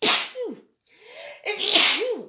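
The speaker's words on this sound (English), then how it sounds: "I'm going to sneeze, sorry." A few loud, close sneezes in quick succession, each a sharp burst of breath, with a short gap between them.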